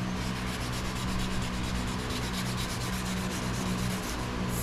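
Paint on a 1960 Impala convertible being hand-sanded with 600 grit paper and no block, a steady close-up rasping scrub that stays even and continuous throughout, with no talking.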